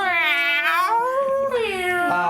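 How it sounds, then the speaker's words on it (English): A cat yowls aggressively in long, wavering, rising and falling howls, loud and close, with no talk over it. "So there's a cat yowling."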